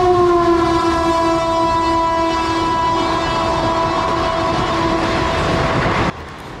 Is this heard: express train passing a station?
yes